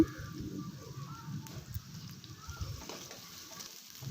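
Curry leaves and onions fry in oil, a soft low sizzle with light bubbling and occasional clinks, quiet and continuous without talk.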